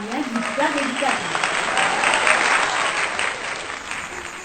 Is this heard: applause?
yes